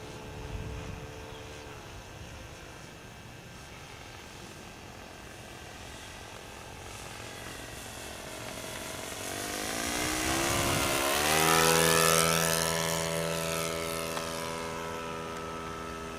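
A 50-size RC CMP Cessna 182 model airplane engine runs at wide open throttle, a steady high whine that swells louder as the plane passes near, with a falling pitch shift, then drones on.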